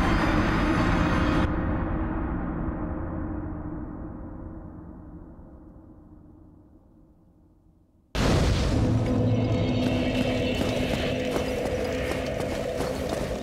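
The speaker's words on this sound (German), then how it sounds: "Die Explosion kommt immer irgendwo." A heavy explosion in the video game Dark Souls Remastered: a loud, broad blast rumbles and slowly fades over several seconds, then a second sudden, powerful burst cuts in and stays loud, with no voices.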